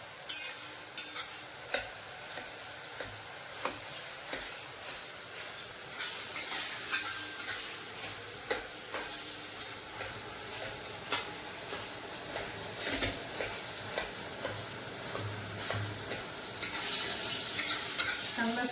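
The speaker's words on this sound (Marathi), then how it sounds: "केळी मऊ होईपर्यंत केळी शिजवायची तुपामध्ये" Bananas frying in ghee for banana sheera, with a spoon scraping the pan in regular strokes over a soft, steady sizzle; close and fairly quiet, with no talk.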